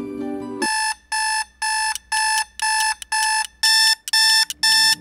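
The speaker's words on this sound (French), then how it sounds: "Je retarde le réveil jusqu'au dernier moment." A morning alarm clock rings in a run of loud, evenly spaced electronic beeps, steady and close, with the pitch stepping higher for the last few pulses.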